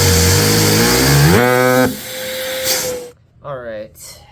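A homemade vacuum engine spun up on a big flywheel runs loud and close, its rising whine climbing in pitch as revs build, then drops away and cuts out, followed by short bursts of sputtering restarts.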